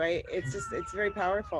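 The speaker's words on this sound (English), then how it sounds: "Sorry, that's the cat." A cat meows a few times close by, overlapping with a person talking.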